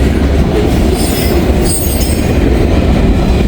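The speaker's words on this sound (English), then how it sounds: "What's with the short trains, Norfolk Southern?" A Norfolk Southern freight train passes at night, a loud, close rolling roar of railcars with wheels squealing on the rails and a faint clack, steady and unbroken, with no talking.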